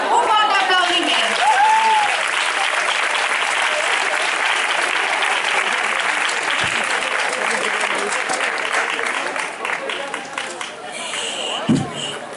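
Sustained, loud applause from a crowd at an October 9 commemoration, a dense continuous clapping that runs throughout with a few voices and brief thumps mixed in.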